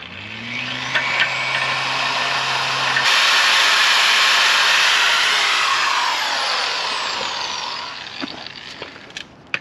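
A drill bores slowly through metal on a Jeep Wrangler TJ front track bar install, a loud sustained whine rising then winding down, with a short low hum before and a few clanks after.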